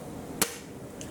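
A single Gamo Whisper Fusion air rifle fires one pellet, a sharp brief crack close by followed by a faint small tick, with no talking.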